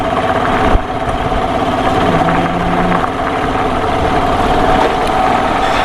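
A motorcycle engine idles nearby with a loud, steady rumble and low vibration, no voices.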